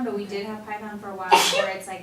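A single sharp sneeze bursts out mid-conversation at a casual coding meetup, loud and close, with people talking before and after it.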